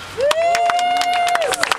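An audience at a civic gathering breaks into applause, with scattered claps and a drawn-out whoop of cheering rising over the crowd.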